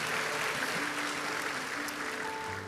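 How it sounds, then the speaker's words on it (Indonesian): A church congregation applauding together at a Christmas service, a dense steady wash of clapping that fills the whole stretch and fades a little at the end, with no words spoken. "Berikan tepuk tangan kita untuk Tuhan kita"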